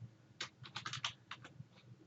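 Short burst of computer keyboard typing, a quick run of close, soft key clicks over about two seconds in a quiet room.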